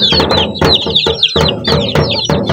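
Native chickens and their chicks move about a backyard. Loud, close clucking mixes with quick, high chirps in busy overlapping bursts, with no talking.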